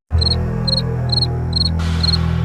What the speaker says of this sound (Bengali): ঝিঝি পোকার একঘেয়ে আওয়াজ বাতাসের শো শো শব্দের সাথে মিশে এক